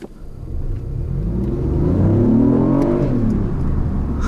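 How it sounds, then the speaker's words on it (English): The engine of a 2019 BMW i8 plug-in hybrid running from inside the car: a close, loud, low rumble that swells with rising and falling revving harmonics over several seconds, with no talk. "there the engine started"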